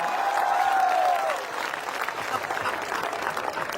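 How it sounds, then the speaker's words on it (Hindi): Audience applause at a Hindi comic poetry gathering, a burst of hearty clapping from the crowd that eases slightly but keeps going throughout, with a faint voice near the start. "महाराज साहब के लिए जोरदार तालियां बजे यार।"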